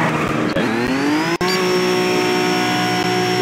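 Car launching in the Asphalt Street Storm racing video game on a computer, its engine revving up and settling into a steady, loud whining drone, with a sharp click partway through.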